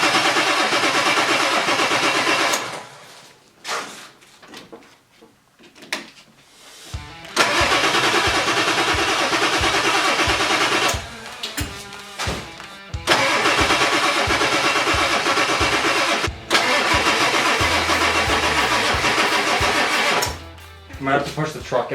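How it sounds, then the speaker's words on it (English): A 1997 Ford 7.3 Powerstroke diesel truck with freshly fixed injectors and air in the fuel system cranking repeatedly: loud, rhythmic starter churning in several long bursts separated by pauses, with people talking over it. "Hopefully there's enough battery that it'll start."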